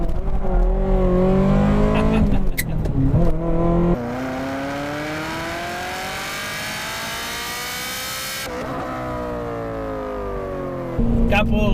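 A 23-year-old Ferrari F355 on a racetrack, its engine revving hard through fast laps, loud and close with rising and falling pitch, a long sustained climb in the middle and no talk over it.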